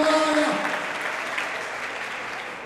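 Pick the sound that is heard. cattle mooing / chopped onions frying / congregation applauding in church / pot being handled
congregation applauding in church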